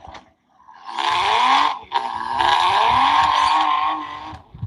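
A Carrera Hybrid BMW slot car's electronic engine sound revs up and holds a steady high whine, briefly dipping and rising again, close and alone without talk.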